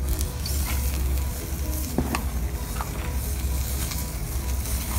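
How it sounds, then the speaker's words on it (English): Lobster tails sizzle steadily on an outdoor grill, a continuous close crackling hiss with a few sharper pops, no voices. "I'm going to get these lobster tails on the grill"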